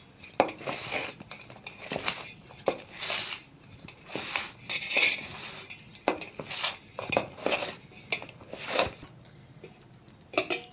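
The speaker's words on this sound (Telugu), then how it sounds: "ఇట్లా మంచిగా కింద మీద కలుపుకోవాలి" A spoon stirs and mixes Telangana-style puli gora in a metal pot, giving close, irregular clinks and scrapes against the pot sides in quick bursts.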